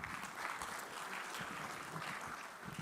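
A conference audience applauds after a presentation, a faint, distant wash of clapping that continues evenly for a few seconds.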